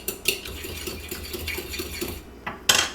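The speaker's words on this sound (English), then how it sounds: "I'm just going to put them in a bowl first, and then I'm going to just whisk them up with a fork" Eggs whisked in a bowl with a fork, a quick run of light rhythmic metal-on-bowl taps and scrapes, close and fairly soft, ending in a couple of sharper clinks.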